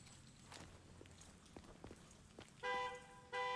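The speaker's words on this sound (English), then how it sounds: "Hey, don't honk at me!" Car horn honking inside the Devil May Cry 5 video game, two loud sustained blasts near the end after quieter footsteps and ambient game noise.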